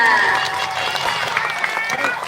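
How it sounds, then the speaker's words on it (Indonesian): Audience applauding at an elementary school's Isra Mi'raj children's preaching contest: dense, steady clapping and crowd noise fill the whole stretch loudly, with voices ringing over it. "Beri tepuk tangan meriah dari Fatia."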